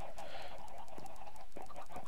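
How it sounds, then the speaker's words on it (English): Chickens in Minecraft, a few short clucks sounding in quick succession near the listener against a quiet game background. "And I hear chickens everywhere."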